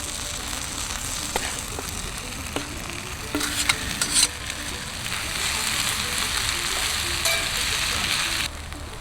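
Wild leeks (ramps), noodles and dandelion flowers stir-frying in a hot pan, a steady loud sizzle with occasional scraping stirs and clicks running continuously.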